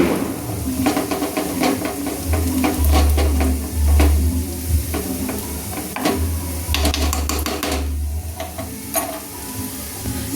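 Onions fry in a pan, browned to a reddish colour, with a loud, steady sizzle and hiss. A utensil scrapes and clatters repeatedly while they are stirred, and there is no talk.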